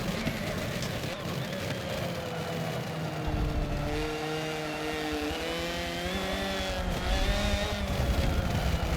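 A race car in Forza Motorsport 7 on the Long Beach street circuit drones continuously, its engine note rising and falling through shifts as it laps, steady and fairly quiet in the background.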